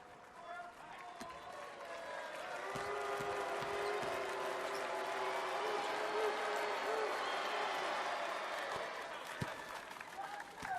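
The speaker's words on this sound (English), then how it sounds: "We got a small section of fans here cheering for the San NEOPHOENIX." Basketball fans of the San-en NeoPhoenix cheer and applaud during a B.League game against the Shinshu Brave Warriors, a steady arena crowd roar that swells after the second second and holds loud, with a commentator's voice over it.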